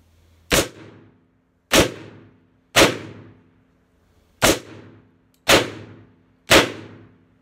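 Six loud, separate shots from a 2020 Colt Python revolver firing .357 Magnum 158 grain rounds double action, each a sharp crack with a short decaying ring, spaced about a second apart with one longer pause.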